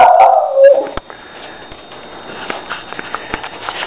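Dog yapping up close in a home, a burst of loud high-pitched barks and whines at the start, then quieter sniffing and small rustles.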